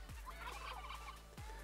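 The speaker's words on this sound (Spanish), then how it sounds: "No le pegues al pavo, hombre." A turkey in the Last Day on Earth: Survival game gobbles twice in quick succession, a loud, close rapid warbling call standing alone with no talk.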